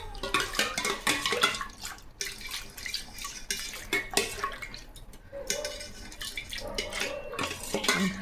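Rose milk liquid poured into a glass and stirred, splashing and trickling liquid with clinks of a spoon against the vessel, close and busy, with a short quieter gap midway and no speech.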